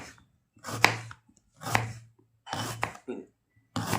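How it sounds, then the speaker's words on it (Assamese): Onions and green chillies being finely chopped with a knife for a village-style fish curry, heard as four distinct sharp chopping strokes on a board with short pauses between, close and fairly quiet. "পিঁয়াজখিনি আৰু জলকীয়াখিনি মই একদম মিহি মিহিকৈ কুটিম"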